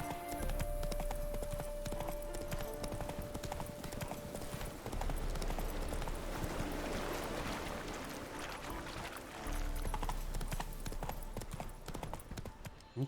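Roach, Geralt's horse in The Witcher 3: Wild Hunt, clip-clops steadily along at a walk for about thirteen seconds, hoofbeats clear and close over a busy background of game music and ambience.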